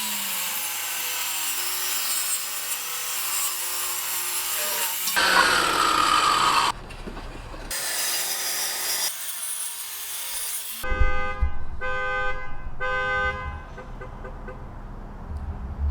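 Table saw ripping hardwood boards in a shop, a loud steady whine of the blade biting wood broken by brief pauses and spin-down gaps, with a final stretch of tonal motor hum and rhythmic cutting bursts; no talking.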